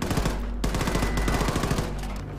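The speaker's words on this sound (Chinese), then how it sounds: "那看到这个敌人呢，我们就要开始来射击" Rapid automatic gunfire rattles almost without pause as enemies are shot in the Wolfenstein II: The New Colossus video game on Nintendo Switch, with dense, loud bursts that barely stop across the short stretch.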